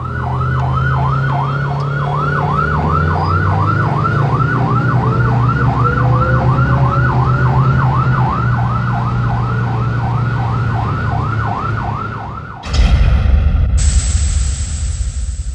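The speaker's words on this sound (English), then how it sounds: "The Siren is the more American-style warbler" Airport fire engine sounding an American-style warbler siren, a loud, rapidly oscillating wail over an idling truck engine, cut off abruptly near the end by a sharp, high-pitched tone.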